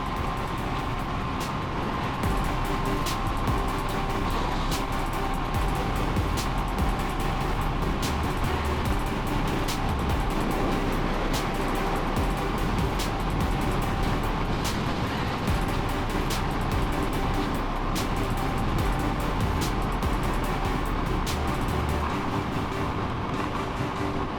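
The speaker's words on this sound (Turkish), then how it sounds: "altımızdaki motor da küçük skuter olunca" Small 125cc RKS Newlight scooter cruising on a highway, steady road and wind roar with a constant engine hum filling the whole stretch, no talking.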